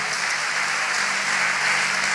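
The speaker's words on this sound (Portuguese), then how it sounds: "Vamos dar uma salva de palmas para Jesus" Church congregation giving a round of applause for Jesus during a healing service, a short burst of continuous crowd clapping at steady volume.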